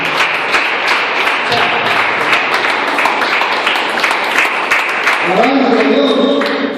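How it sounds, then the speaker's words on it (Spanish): A church youth congregation applauds in a dense, continuous roar of clapping, loud and close, while a voice speaks over it and tonal music rises near the end. "Denle un aplauso ahí"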